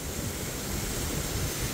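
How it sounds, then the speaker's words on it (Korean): Yongchu Falls in the gorge of Juwangsan's mountain valley sends water rushing in a dense, steady roar, heard up close with no voices. "이곳이 바로 용추폭포입니다."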